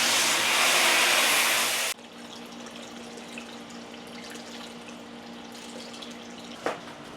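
Tap water gushes loudly into a beekeeping bucket being rinsed and washed for about two seconds, then cuts off, leaving quiet room noise with a faint drip or small splash near the end.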